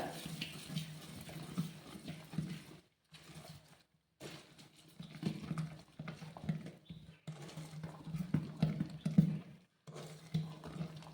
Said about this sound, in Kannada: ಇವಾಗ ಇದನ್ನು ನೀಟಾಗಿ ಎಲ್ಲವನ್ನು ಮಿಕ್ಸ್ ಮಾಡ್ಕೊಳ್ಳೋಣ.